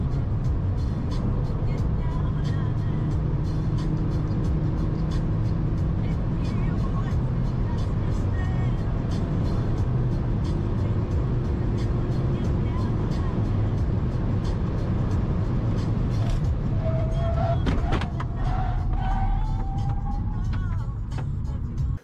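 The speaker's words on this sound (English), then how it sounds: "He is absolutely bombing down the German autobahn" A car speeds down the German autobahn, with steady, loud road and wind roar and engine drone from inside the cabin, a rising whine near the end.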